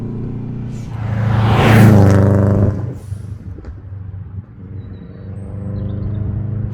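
A Subaru Impreza GT Turbo drives past with its engine swelling into a loud rumbling pass, then fading to a steady lower drone from the car.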